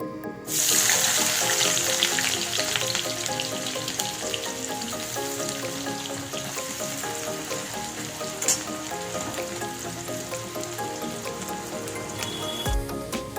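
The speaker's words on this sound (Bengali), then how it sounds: "বাকি পেঁয়াজটা আমি ভেজে নেব" Onions fry in oil in a pan with a loud, continuous close sizzle and crackle that holds steady from start to finish, with no talking over it.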